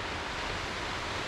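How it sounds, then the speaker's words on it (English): Waterfalls in the Carson Iceberg Wilderness, reached from the Clark Fork trailhead, roar as a steady, dense broadband rush of falling water with no breaks or talk. "I found beautiful waterfalls."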